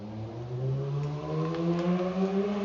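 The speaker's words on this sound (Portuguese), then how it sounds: "E barulheira de carro aí fora" Car engines droning from outside a room, a steady low hum with slowly rising tones as vehicles pass, moderately faint and heard without talk.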